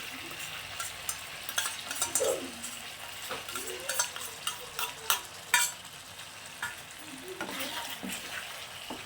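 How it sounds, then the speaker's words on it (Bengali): Chicken with whisked yogurt, cumin and coriander powder cooking down in a pan for white chicken korma, a soft steady sizzle broken by repeated scraping stirs and light utensil clinks close by. "তো এখন এটা দিয়েও আমি খুব ভালো করে কষিয়ে নেব"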